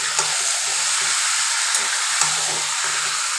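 Ground spice paste from the mixer frying with chicken in a pan, a steady, close, broad sizzle with faint stirring scrapes and a few soft knocks, no talking.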